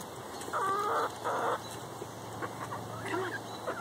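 Chickens clucking close by in short bursts, a couple of louder squawks early and softer clucks after, during a session of teaching hens tricks.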